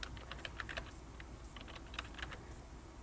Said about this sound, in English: start typing the name of the person you want to send the page to